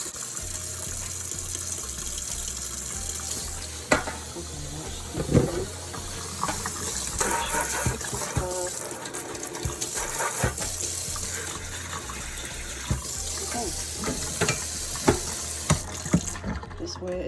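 Water pours and trickles steadily into hoya and succulent plants in nursery pots, with a low background hum and occasional pot handling knocks.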